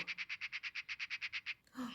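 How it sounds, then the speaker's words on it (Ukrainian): A magpie chatters in a fast, regular string of about fourteen harsh, even rattling notes that run without a break, then stop abruptly and give way to a short rustle. "Це пташка скрикоче."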